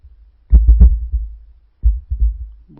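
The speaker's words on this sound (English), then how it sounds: "What are you tapping the stones for?" Knuckles tapping on firmly cemented flagstones in a stone passage, a few dull, low knocks in two short groups, close and solid with no hollow ring.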